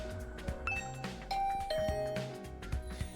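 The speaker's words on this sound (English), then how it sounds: "I rang the doorbell to Tsubasa's room." Doorbell chime at Tsubasa's room in The Hundred Line: Last Defense Academy, a clear game-style ding-dong tone ringing out over soft background music.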